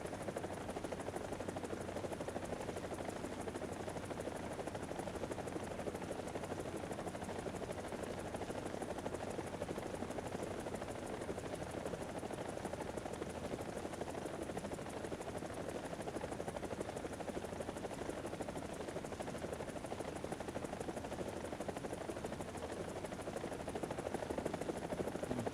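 Mi-24 attack helicopter in a video game, a steady loud rotor and engine drone that holds without letup, with faint crackle that may be distant gunfire mixed in.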